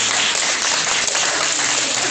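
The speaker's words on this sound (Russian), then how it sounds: "Ну, аплодисменты!" An audience claps steadily at a snake show, a dense, loud wash of hands that holds even through the whole stretch, with no voices on top.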